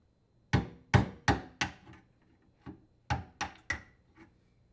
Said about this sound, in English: you will need to knock out the drain tube plug using a screwdriver and hammer